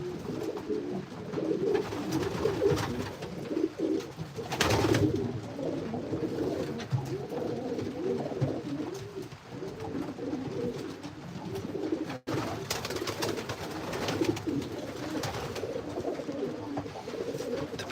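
Racing pigeons coo steadily at close range in a loft during feeding time, their low rolling calls overlapping continuously with light rustling and occasional wing flutters.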